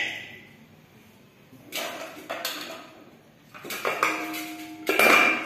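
Boiled avarekalu (hyacinth bean) grains are strained in a metal vessel, with clanking and scraping of pots and utensils arriving in several bursts, louder toward the end, close up with no talk.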